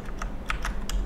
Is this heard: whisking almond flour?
no